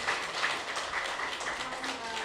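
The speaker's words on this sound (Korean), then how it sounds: "축하 박수해 주십시오" A church congregation applauding in celebration during a Sunday service, a steady, fairly faint wash of clapping that runs evenly through the whole stretch with no clear break.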